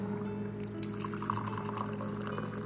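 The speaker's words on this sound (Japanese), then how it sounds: "象印の魔法瓶から象のマグカップへお湯をドン" Hot water pours from a Zojirushi thermos into an elephant-shaped mug whose handle forms the trunk, a steady close trickling and splashing that runs unbroken with no talk.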